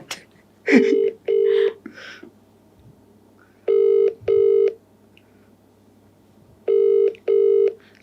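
A telephone call goes out: a few quick keypad tones, then ringback tones in evenly spaced double pulses with silent gaps, clear and close on the line, with no speech.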